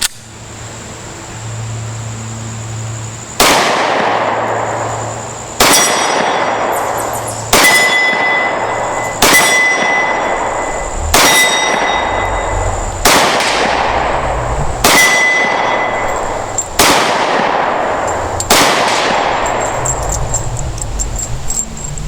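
A Smith and Wesson 4013TSW pistol fires about eight loud, sharp shots spaced a couple of seconds apart, each with a ringing outdoor decay and no talking.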